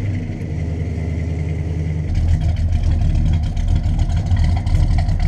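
Chevrolet Chevelle engine rumbling after starting, a deep steady idle that swells louder and rougher after two seconds, with a throaty exhaust note close by.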